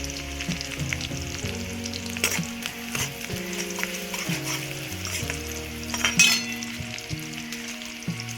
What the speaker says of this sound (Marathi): आता कांदा टाकलाय तर फिरवून देऊन घेते